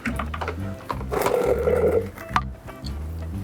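An Avanti AV-APS1 airless paint sprayer pumps clean water with a steady, rapid mechanical buzz, and a broad hissing spray surges through the middle and then drops back to the motor's chatter.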